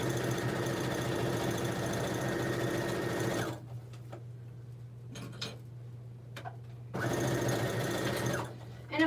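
A sewing machine runs in a steady whirring burst while stitching fabric panels for a patchwork tote bag, stops for a few seconds of near quiet with faint clicks, then starts again.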